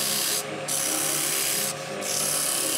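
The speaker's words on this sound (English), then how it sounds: "bringing up that piece of 120 grit sandpaper" Steady, rough 120-grit sandpaper rubbing against a spinning wooden taper, a continuous close abrasive hiss with two brief lifts where the paper eases off.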